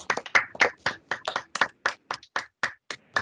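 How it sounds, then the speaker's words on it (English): Audience clapping for the boat team winners at an annual pride awards event, a steady run of distinct, fairly close hand claps in uneven rhythm, thinning toward the end, with no talking. "Everyone, give them a round of applause."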